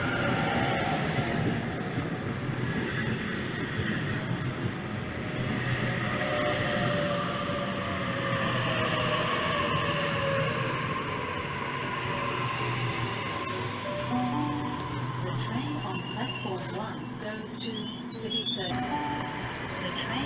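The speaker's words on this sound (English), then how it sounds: "A65 is arriving, the ex-Bathurst Bullet is passing." Sydney suburban trains arriving and passing at Macdonaldtown station make a sustained rumbling roar with wheel squeal and rattling carriages, while a person talks over the noise.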